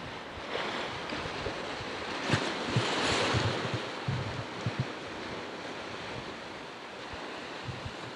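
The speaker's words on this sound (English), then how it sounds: "And out there is the Atlantic Ocean." Atlantic Ocean waves and surf washing steadily along the shore, a continuous broad roar with wind buffeting the microphone and occasional low thumps of breaking water.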